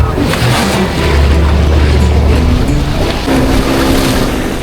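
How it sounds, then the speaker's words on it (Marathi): A boat motors between two rocky outcrops at sea near the Vengurla Rock lighthouse, its engine a steady close rumble mixed with constant water and wave wash throughout. "त्याच्यामधून आता आपली बोट ती चाललेली आहे"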